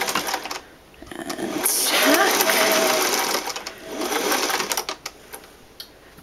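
A sewing machine stitches summer dress fabric in bursts, its rapid mechanical chatter rising into a sustained run then stopping and starting again, close and clear.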